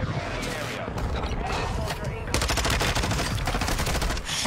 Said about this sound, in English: Enemy mortar incoming.